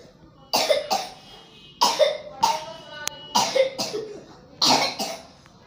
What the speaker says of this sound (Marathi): इतका खोकला येऊन राहिला याला